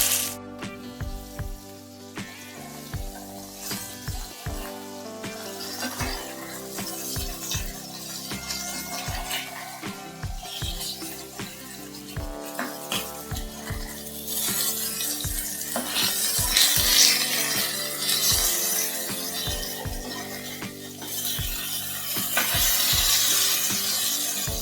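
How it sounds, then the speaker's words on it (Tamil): Trevally fish pieces, tail and middle cuts coated in masala, sizzle steadily in a pan, with repeated spatula scrapes and clinks over the frying, close and fairly loud, the hiss swelling toward the end. "மீதி அந்த வால், அந்த நடு துண்டெல்லாம் எடுத்து மசாலா தடவி வறுக்கிறது"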